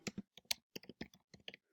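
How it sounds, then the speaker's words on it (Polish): Typing on a computer keyboard at close range, with quick irregular clusters of crisp key clicks and short pauses between them. "Klikamy i wpisujemy nasze, nasze pytanie"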